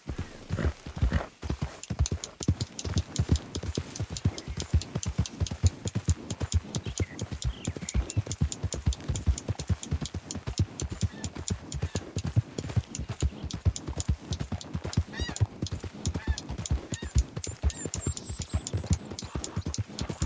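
Rapid rhythmic hoofbeats of a horse galloping steadily in the Red Dead Redemption 2 video game, close and loud for the whole stretch, with a faint high tone running over the top and no talking.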